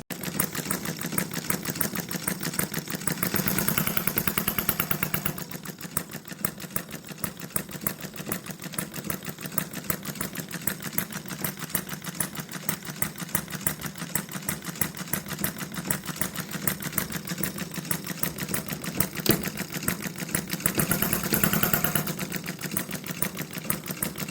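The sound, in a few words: small model engine of HM-01 Retrol kit running fast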